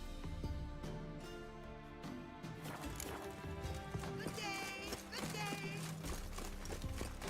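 Horse hooves clip-clop in The Witcher 3 game, a rhythmic trotting beat under a dense bed of game music and background voices, with a faint whinny partway through.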